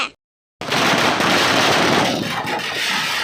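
Firecrackers burst during Diwali in a cartoon scene, a loud dense crackling barrage that follows a brief silence and rolls on steadily, with no one speaking.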